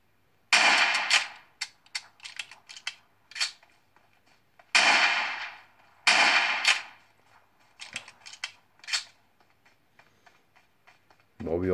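Gunfire in the mobile shooter game PUBG plays on a Xiaomi Redmi K30 Pro phone: sharp, echoing shots come in irregular bursts, with some long ringing blasts among shorter cracks and quiet gaps between.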